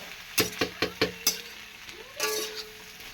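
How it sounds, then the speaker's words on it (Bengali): A spoon or spatula stirs food in a pan on the stove: five sharp, evenly spaced scrapes and clinks, then a softer sizzling scrape, heard close with no voices. "আর এই যে এটা আমি একটু আর কি নাড়াচাড়া করি"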